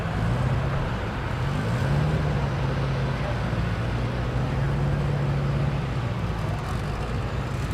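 Two stick shift Subaru cars rumble and rev at a drag strip in Thunder Valley, Noble, Oklahoma, their engines a steady loud drone with shifting pitch throughout, partly under announcer talk.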